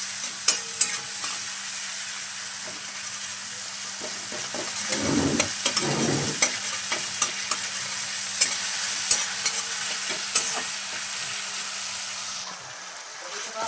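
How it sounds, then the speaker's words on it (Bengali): A spoon stirs salt and black pepper into a softened tomato mixture in a pan for an aloo tomato sandwich filling, with a steady low sizzle and soft scraping strokes throughout and no talk. "এবারে একটু নেড়ে চেড়ে নেব।"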